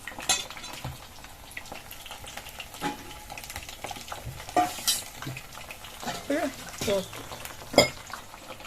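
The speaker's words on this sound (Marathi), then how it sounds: "त्याला चांगला आपण थोडा वेळ फ्राय व्हायला वेळ देऊ" Paneer sizzling and frying in hot oil, with intermittent stirring and clinks of a utensil against the pan, close up and fairly quiet.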